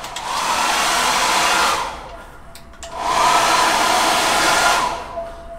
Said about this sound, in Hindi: भाप देने वाला अजीब सा वो हेयर ड्रायर